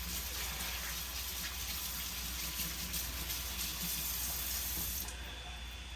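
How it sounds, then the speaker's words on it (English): Hands being washed under a running kitchen tap, a steady loud gush of water with faint splashing throughout, which drops slightly as the flow changes near the end. "let me wash my hands."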